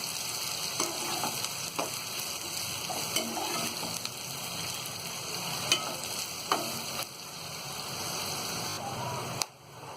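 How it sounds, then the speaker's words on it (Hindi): Onions frying in a pan until golden brown for a dhaba-style aloo gobhi dish, a steady close sizzle with occasional stirring scrapes throughout, no talking. "और प्याज को हम गोल्डन ब्राउन होने तक फ्राई करेंगे।"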